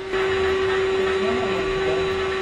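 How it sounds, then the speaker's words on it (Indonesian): A vacuum cleaner runs steadily while a room is cleaned, a loud continuous motor drone with a strong steady whine and airy hiss throughout, with no pauses. "Seorang cleaning service sedang membersihkan ruangan dengan vacuum cleaner"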